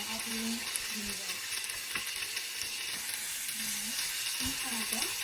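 Garlic and onion sautéing with vinegar in a hot pan, giving a continuous soft sizzle with a few scraping utensil strokes and faint background sounds, no voices.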